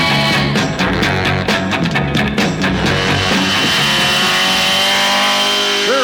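The Batmobile roars off in a chase, its engine revving hard with sharp tire squeals and skidding, then settling into a loud sustained drone.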